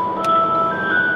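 A phone rings with an incoming call, heard as a short, bright electronic melody of steady tones. It plays close and clear for just over a second with no talking.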